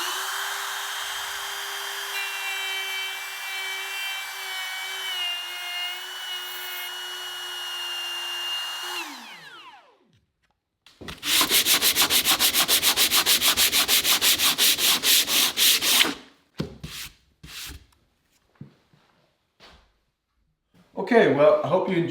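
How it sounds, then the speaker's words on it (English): A router fitted with a straight bit and an open base plate trims a wooden plug flush. A steady motor whine spins down, then a loud, harsh cutting buzz follows, then short bursts and a final burst. "So I've set up my router with a straight bit and an open base plate just for this purpose."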